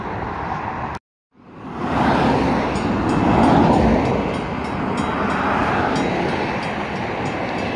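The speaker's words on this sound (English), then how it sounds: "Here comes the 8:42 northbound train to Long Branch." NJ Transit northbound train to Long Branch arriving at Bradley Beach station, a loud, steady close rumble and roar of the passing cars building after a brief gap and holding throughout.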